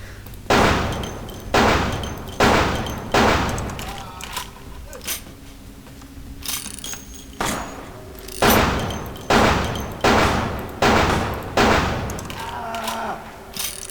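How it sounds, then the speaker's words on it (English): Glock pistol gunfire in Vampire the Masquerade: Bloodlines, loud evenly spaced single shots roughly once a second in two runs with a short pause between, each crack followed by a brief decaying echo. "Let's bust out our Glock."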